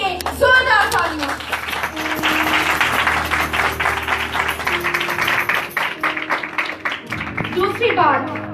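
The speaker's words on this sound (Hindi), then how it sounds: "आइए एक बार फिर रूह कुद्स के लिए जोरदार तालियां।" Church congregation clapping and applauding in sustained, loud rhythmic bursts, with a voice speaking over the start and end.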